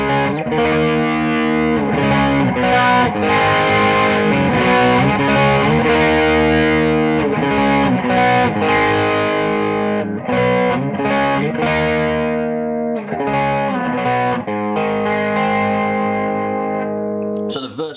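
Electric guitar played through an Audiostorm Quad Screamer overdrive pedal with gain turned up, chunky distorted chords and riffs in a continuous loud, close performance with brief choppy pauses and a ringing tail.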